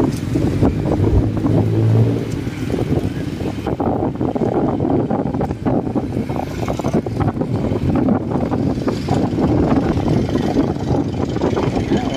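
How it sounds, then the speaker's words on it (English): Road traffic passing on a street in Olongapo City, with wind buffeting the microphone, a steady loud rumble of engines and gusts throughout with no talking. "Wind's picking up and traffic's picking up."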